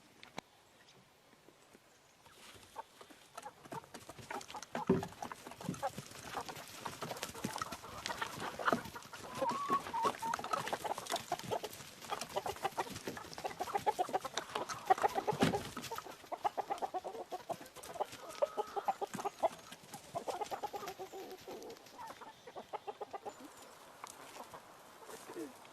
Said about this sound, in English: All right, all the ladies and rooster are out having their little morning treat.